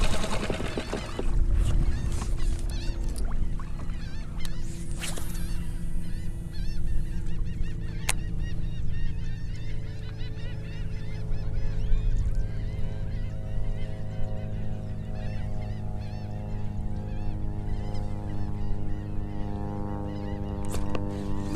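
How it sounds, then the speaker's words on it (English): A flock of ducks calls out on open water, steady honking and quacking from several birds carrying on for over twenty seconds at moderate distance, with no talk over it. "That's a bunch of ducks."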